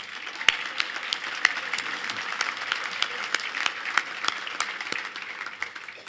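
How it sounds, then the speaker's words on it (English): A civic breakfast audience applauds in a fairly quiet, steady patter of many hands, with a few sharper individual claps standing out, no talking over it. "Let's have a quick round of applause for them."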